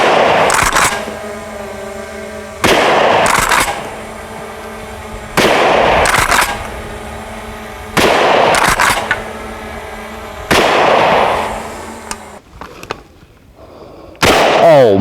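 Kel-Tec KSG410 shotgun firing at an outdoor range, five loud sharp blasts spaced a couple of seconds apart, each with a brief echoing tail, then a faint pause and the start of another.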